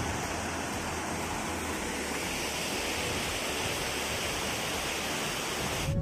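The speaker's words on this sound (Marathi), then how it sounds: "बघा वरतून पाणी पडतंय" Vajrai waterfall in Satara seen on a jungle trek, water pouring down from above as a steady, dense rushing roar with no pauses.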